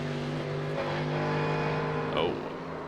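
A Porsche GT3 race car in iRacing at Summit Point spins out, its engine droning steadily and loudly with a brief screech near the end as it loses grip, with a voice speaking faintly over it.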